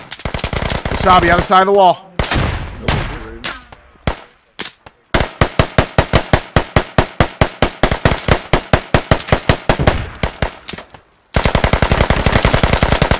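Enemy gunfire in the military shooter game Squad, loud and close: rapid automatic bursts of evenly spaced shots crack repeatedly with brief pauses between volleys, while a voice speaks briefly over the opening shots.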